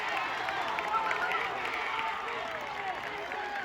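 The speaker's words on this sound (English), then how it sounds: "The crowd is going nuts." Crowd cheering at a high school 3200-meter track race in the final lap, a steady roar of distant voices and clapping, fairly faint and continuous beneath an announcer's voice.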